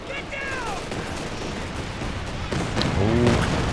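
Rapid battlefield gunfire and bursts from a Company of Heroes 2 match, with a machine gun rattling among other shots in a dense, continuous war-game soundscape, under a tonal voice-like call near the start and end.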